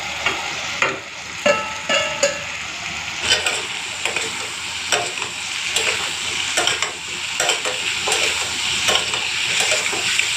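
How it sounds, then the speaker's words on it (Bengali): Fried potato, pointed gourd and soybean being stir-fried in a spice mix, loud continuous sizzling with repeated scraping strokes of a spoon against the pan at an irregular rhythm, close up, no talking. "এরপরে দিয়ে দেবো ভেজে রাখা আলু পটল আর সয়াবিন।"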